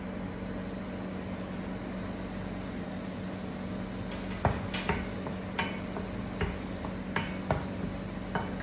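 Chopped onion and asafoetida dropped into hot oil for moong dal with methi, a steady close sizzle that gives way to scraping stirs and clinks of a spoon against the pan.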